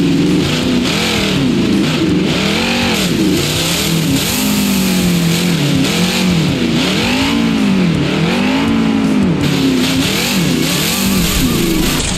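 Boogie Van, a monster truck in BeamNG Drive, drives with a loud, steady engine drone that rises and falls in repeated revving swells throughout, with no voices over it.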